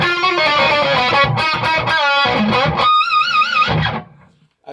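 High-gain distorted electric guitar played through an Egnater Tweaker 88 amp: loud chugging chords and sustained bent notes ringing out alone, then cutting to silence at the end.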